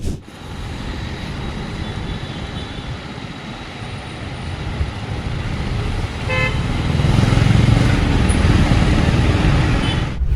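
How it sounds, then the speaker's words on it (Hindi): Busy street traffic in India with several car horns honking, one sharp toot standing out midway, over a constant rumble of engines that grows louder toward the end. "हॉर्न की आवाज तो इंडिया का बैकग्राउंड म्यूजिक है।"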